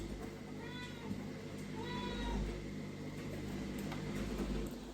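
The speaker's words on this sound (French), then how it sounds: "Elle a nommé le chat du voisin Toto." A neighbour's cat meows twice in short, clear calls heard indoors through a window, moderately close over a low steady room hum, with no one speaking.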